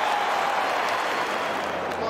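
A dense, steady roar of a stadium crowd cheering and applauding at a football match, loud and continuous throughout.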